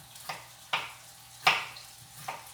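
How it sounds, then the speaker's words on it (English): Meat browning in a pan on the stove, a soft steady sizzle broken by four short scraping stir sounds spaced about half a second apart, close and fairly quiet. "I'm just gonna brown some meat real quick"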